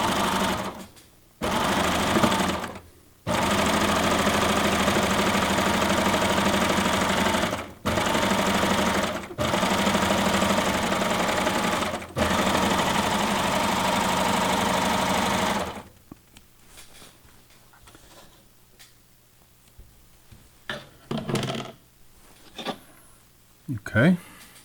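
A serger fitted with a stretch needle runs steadily and loudly for about fifteen seconds, its motor briefly pausing a few times, then stops, leaving faint handling noises and some quiet talk.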